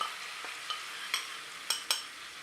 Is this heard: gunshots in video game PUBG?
no